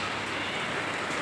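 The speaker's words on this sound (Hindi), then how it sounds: "बारिश स्टार्ट हो गई है क्या? हो गई है।" Rain just beginning to fall under dark clouds over a street, a steady, even hiss of drops that fills the whole moment without any voices.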